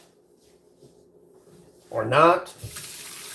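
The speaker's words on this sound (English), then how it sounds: "defrost chicken quicker by running water over it" Tap water runs over chicken to defrost it in a sink, a brief loud splashing gush starting after a quiet stretch, then a steady fainter trickle; someone speaks briefly.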